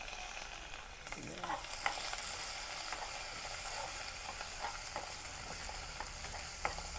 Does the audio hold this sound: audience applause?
no